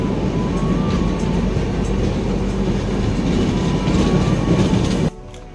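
Santragachi–Chennai Central weekly AC Express (22807) running on the rails near Visakhapatnam, a steady loud rumble with rail noise throughout that drops off sharply near the end.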